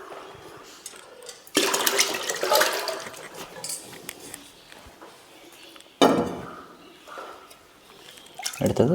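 Rice water poured out for garden plants in two separate splashing bursts of liquid, each trailing off into a softer trickle, with quiet gaps between.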